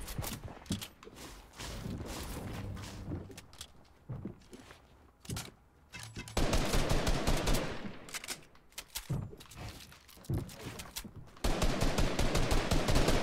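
Fortnite Season 9 trio squad gunfire: rapid bursts of automatic weapon fire and scattered single shots, some distant and some close, mixed with footsteps and game effects, building to dense continuous firing.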